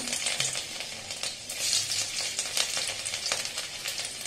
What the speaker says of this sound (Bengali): তেলটা মোটামুটি হয়ে গেছে, তো এর মধ্যে আমি দিয়ে দেবো রসুন